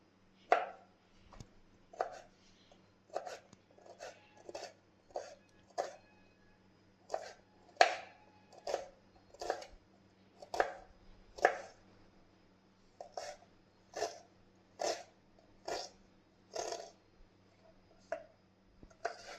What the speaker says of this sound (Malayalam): ഇനി നമുക്ക് ഇത് അരിഞ്ഞെടുക്കാം